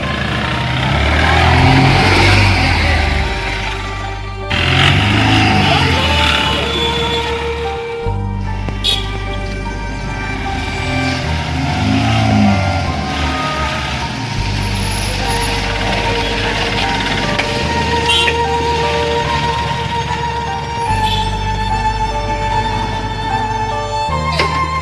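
A vehicle engine runs steadily and loudly, with gear-like shifts and a rising drone as it pulls away, while people shout over it.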